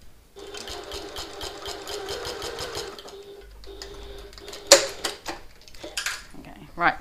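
A sewing machine bastes the seam allowances of a handbag together along the bottom, running in a fast steady stitching rattle for a few seconds before stopping, followed by clicks and light handling noises as a voice talks.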